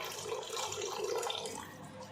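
Water pours steadily into a cooking pot, about one litre being added for Ramadan nombu kanji rice porridge, a continuous close splashing rush with no speech.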